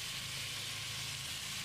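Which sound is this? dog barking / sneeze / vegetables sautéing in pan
vegetables sautéing in pan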